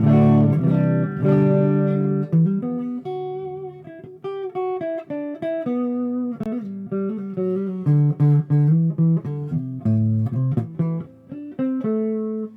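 Heavily distorted electric guitar through an Ashdown G40R amp's super distortion channel plays a series of sustained chords and riffs, thick and buzzy, filling the whole stretch without any voices.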